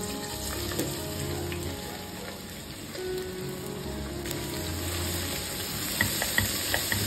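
Chopped onions frying in coconut oil in a pressure cooker, a constant rain-like sizzle with a low hum beneath and a few sharper pops and stirring clicks toward the end.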